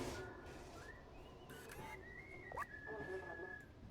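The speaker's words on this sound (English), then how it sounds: "Just some whistling in there. A whistling robot." A robot in the video game Stray whistles a thin, wavering tune at moderate distance over a low background hum, with a few clicks and clatters in between.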